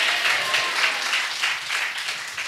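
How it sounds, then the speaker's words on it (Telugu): A church congregation claps together in praise during a Telugu Christian sermon, a dense burst of rhythmic applause lasting a couple of seconds, loud and close. "చప్పట్లు కొట్టి దేవునికి స్తోత్రం చెప్పండి"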